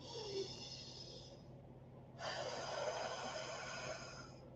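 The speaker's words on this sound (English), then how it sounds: "Taking a deep breath in. Another deep breath in." Two long, deep inhalations through the nose during a guided meditation, close and fairly faint, each a drawn-out airy rush separated by a short pause.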